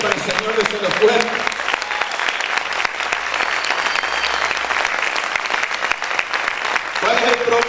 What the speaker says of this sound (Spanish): Ese aplauso para el Señor desde los fuerte.